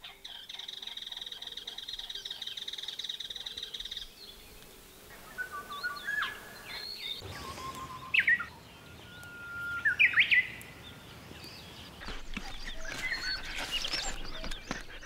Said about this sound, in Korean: 목청 좋은 새들이 숲의 모든 기운을 깨웁니다.